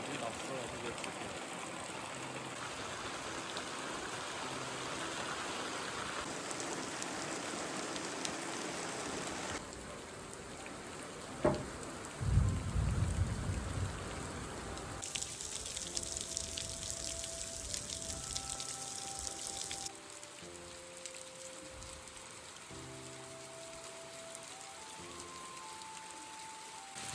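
Heavy night rainstorm with strong wind and thunder: a steady, dense hiss of rain runs throughout, with a brief deep rumble midway and a change in the background texture in the later part.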